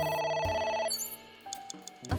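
A phone rings in AI: The Somnium Files, with a short electronic tone that cuts off quickly, followed by a few sparse clicks and soft game sounds.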